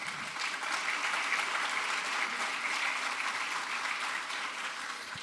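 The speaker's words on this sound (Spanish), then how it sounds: "La aplaudieron más que a Petro hace un año." Audience applause at an energy transition conference panel, a steady, even wash of clapping lasting several seconds, moderately distant and without talk.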